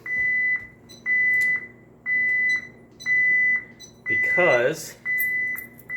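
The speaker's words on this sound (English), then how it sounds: "we got to disarm this alarm system" An alarm system, about to be disarmed at an off-grid water setup, emits loud, evenly spaced electronic beeps roughly once a second, six in a row, with a person briefly speaking over the fifth beep.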